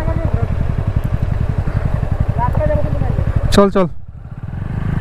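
A motorcycle on a border ride from India into Bhutan labours up a steep road, its engine chugging hard and close with a rhythmic low thrum that briefly rises and drops; a voice speaks over it.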